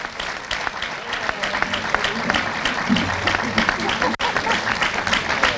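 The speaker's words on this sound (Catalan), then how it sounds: "I este fort aplaudiment per a despedir als representants de la Fira d'Onda 2024." Loud, continuous applause from an audience at a Sant Pere neighbourhood festival queen proclamation, seeing off representatives of the 2024 Onda fair, with some crowd voices mixed into the steady clapping.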